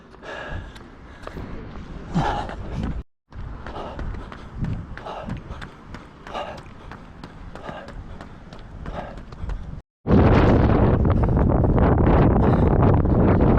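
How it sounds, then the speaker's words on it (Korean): Strong wind blowing outdoors at a marathon running spot, a loud steady roar that takes over in the last few seconds after a stretch of talk and buffeting noise. "바람이 강하게 붑니다"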